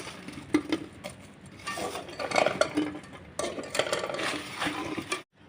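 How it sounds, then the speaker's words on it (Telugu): Fried urad dal vadas being stirred into thick jaggery syrup in a pan, soft scraping and wet sloshing strokes with occasional utensil clinks, close and moderately quiet, no speech. "ఆ పాకంలో గారెలు వేసి ఇలా కలుపుకోవాలి"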